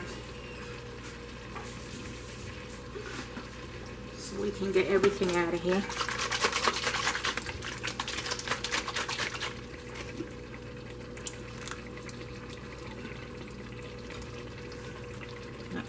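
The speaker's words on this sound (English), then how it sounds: "I'm going to put a drop of water in here and swish it around." A splash of water swirls and sizzles in a hot pan of tomato, basil and garlic pasta sauce for spinach and sausage pasta, a loud burst of frying hiss and sloshing for several seconds, with a person talking.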